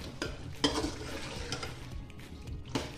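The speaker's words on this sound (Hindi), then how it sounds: "बड़े बड़े आलू भी भून लिए।" Thick-cut potato chunks frying with yogurt-coated meat for aloo gosht, a sizzling bed with several scraping stirs and clinks of a spoon against the pot, close and fairly quiet, with no talking.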